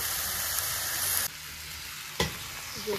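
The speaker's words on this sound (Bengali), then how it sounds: "আর আলুটা একসাথেই ভেজে নাও, নুন আর একটু হলুদ দিয়ে বেশ লাল লাল করে ভেজে নাও।" Potatoes and taro fry in mustard oil with turmeric and salt, giving a loud steady sizzle that drops suddenly partway through, followed by a sharp clatter and a quieter crackle.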